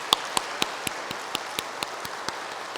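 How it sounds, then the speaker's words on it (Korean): A church congregation claps for the choir, with sparse, evenly spaced claps sounding at about three per second. The claps are faint and moderately distant, and no one speaks. "우리 한번 격려의 박수 돌리겠습니다."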